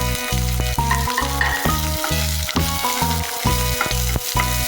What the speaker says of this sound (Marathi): कांदा पण चांगला भाजून घ्या.